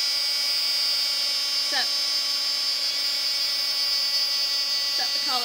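A heat tool blows a steady, loud whirring drone while heating embossing powder on stamped butterflies, a continuous high whine throughout, with a voice speaking briefly over it.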